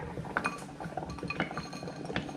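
Quiet clinks and taps of spoons and dishes as brown sugar and spices go into a bowl, several light irregular knocks close by.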